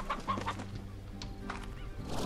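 Chickens in the game Slime Rancher cluck close by in a farm-like enclosure, several short, throaty clucks and squawks in a quick irregular run, fairly faint and heard alone.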